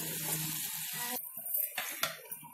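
Brinjal cooks in a pan, giving a soft, close sizzle with light bubbling and a few faint clinks over a couple of seconds.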